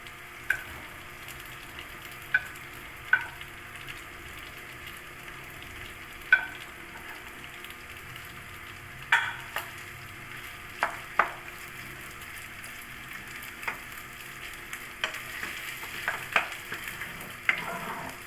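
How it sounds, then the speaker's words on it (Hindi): Mashed boiled potatoes fry quietly in a pan, a soft steady sizzle broken by occasional spatula taps and scrapes spread across the stretch. "थोड़ा सा इसको फ्राई करेंगे"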